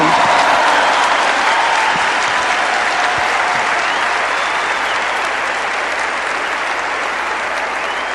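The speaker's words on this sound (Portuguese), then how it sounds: "aplauda com mais força aquele que nos deu a vitória" A church congregation breaks into loud, sustained applause during a Catholic priest's sermon, a dense wash of clapping that fades only slightly.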